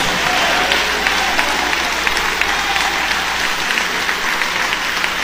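Steady, dense applause from a church congregation fills the space without a break, loud and continuous throughout, with no individual claps standing out.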